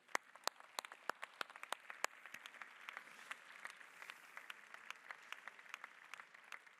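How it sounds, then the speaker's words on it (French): An audience at a charity gathering of parents, volunteers and donors applauds a speaker named Laurent, a steady wash of many hands clapping with sharp individual claps standing out, sustained throughout at moderate volume with no talk. "Applaudissements pour lui, Laurent."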